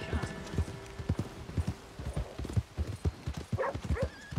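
Horse hooves clip-clop at a brisk, galloping rhythm in Red Dead Redemption 2, steady close thuds with a brief whinny-like sound near the end over faint game ambience.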